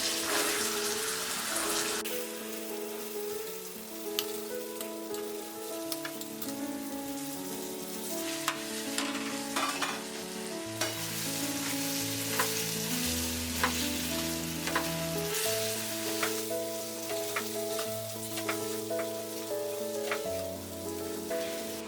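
Soaked sabudana is added a little at a time to a hot pan and stirred, a soft steady sizzle with intermittent spoon scrapes and taps, heard under continuous background music with no speech.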